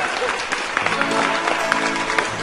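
A live audience applauds at a band concert, a steady wash of clapping and crowd noise throughout, with a voice speaking over it.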